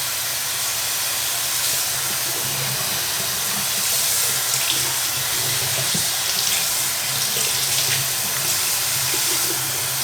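Water runs steadily into a container while LECA-grown plants are flushed, a continuous broad hiss and splash that stays even and close for about ten seconds with no talking.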